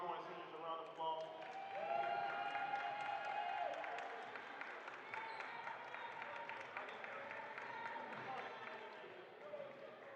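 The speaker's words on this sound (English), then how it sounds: "can you please give our outgoing seniors a round of applause?" Audience at a community basketball championship game applauds outgoing seniors, a steady wash of clapping and crowd noise that holds for several seconds, with voices mixed in.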